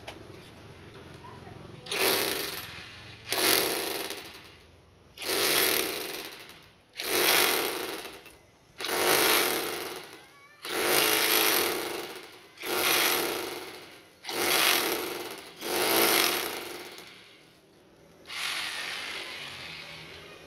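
A power drill with a hollow core bit bores into a concrete wall in nine steady grinding bursts, each a few seconds long with short pauses between, loud and close.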